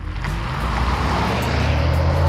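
An electric car in off-road testing pulls away at full throttle from a standstill, giving a loud, steady, rising drive hum and road rumble that builds over a couple of seconds with no one talking.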